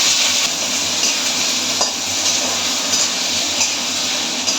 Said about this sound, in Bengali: তেলটা আমার গরম হয়ে গেছে, আলু পেঁয়াজ কেটে নিয়েছি, এগুলোকে ভেজে নেবো।